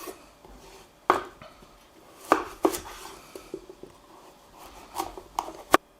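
A knife chops a pumpkin into small cubes, about 1.5 cm, on a board: several sharp, close knocks with short crackles in between, at an irregular pace, with no talking.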